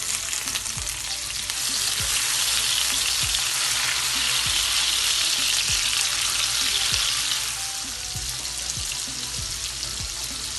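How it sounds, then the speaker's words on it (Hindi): Chopped onion and tomato fry in a small amount of oil, a steady broadband sizzle running throughout with faint periodic scrapes of stirring, heard close and alone without voices. "इसके बाद हम प्याज और टमाटर साथ से डाल देंगे।"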